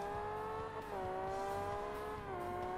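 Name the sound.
fast car engine accelerating in Forza Motorsport video game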